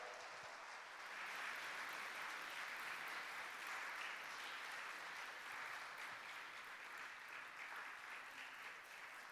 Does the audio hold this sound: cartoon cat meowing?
no